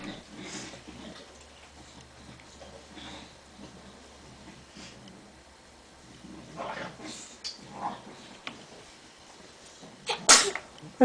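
A baby in a high chair gives one short, sharp sneeze near the end, after a long stretch of quiet room sound with faint soft noises.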